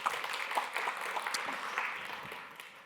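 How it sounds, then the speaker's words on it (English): A conference audience at a programming talk in Poland applauds steadily, a dense wash of many hands clapping at moderate distance that gradually thins and fades toward the end. "Once you've finished clapping"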